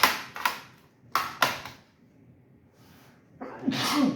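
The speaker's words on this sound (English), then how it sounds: "I need to sneeze" Several sharp, close sneezes in quick bursts, then a short quiet gap before a longer breathy exhale.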